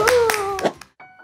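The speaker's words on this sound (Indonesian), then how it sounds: "Kasih tepuk tangan buat Tuhan Yesus" Children in a church kids' service clap in a few quick bursts for Jesus, sharp hand claps mixed with a voice talking over them before fading out.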